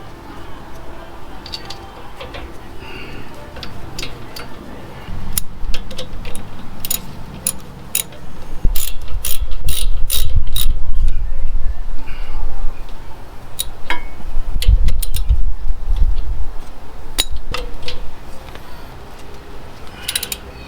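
A ratchet wrench tightens two 13mm bolts on an Acura MDX brake assembly during a home brake job, producing bursts of rapid clicking over a steady low background, with louder stretches of work near the middle and end.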